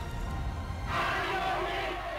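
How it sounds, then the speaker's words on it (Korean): A large crowd roars and shouts in archival footage of the August 1945 liberation in Gunsan, Korea, a dense, sustained wash of voices swelling suddenly after a brief lull and holding steady. "밀물처럼 터져나온 그 인파, 그 함성"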